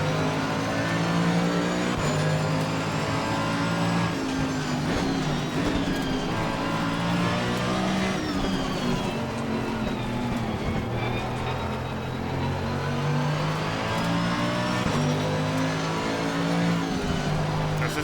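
Race cars starting at Suzuka in Assetto Corsa Competizione, a pack of engines revving and accelerating with rising and falling gear-change whines, loud and continuous.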